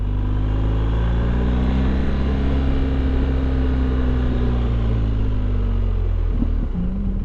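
A 2020 BMW R1250 GS HP motorcycle engine drones steadily with a low rumble and whine under engine braking, holding a sustained tone as it slows, close and loud.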